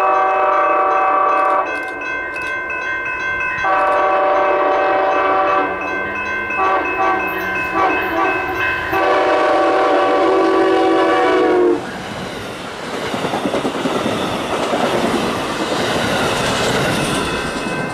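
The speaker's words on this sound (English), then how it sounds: "that Amtrak crew was very friendly to us, because he gave us a really good horn show" An Amtrak passenger train running toward Detroit sounds long, loud multi-tone horn blasts as it passes a lowered crossing, then a roaring rush of wheels and cars rolls by close up.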